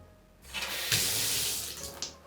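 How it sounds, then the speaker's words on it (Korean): Cold water runs from a tap while a bathroom is rinsed after scrubbing, a steady close rush of flowing water that starts abruptly and splashes louder partway through, heard alone. "이제 찬물로 헹궈 볼게요"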